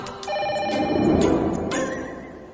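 A telephone rings in an office, one steady electronic ringtone lasting a couple of seconds, close and clear with no talk over it.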